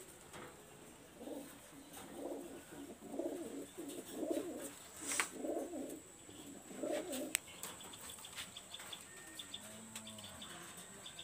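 Pakistani high-flyer pigeons kept in a home loft give soft, repeated cooing phrases in a steady run, fairly quiet and close, with no talking over them.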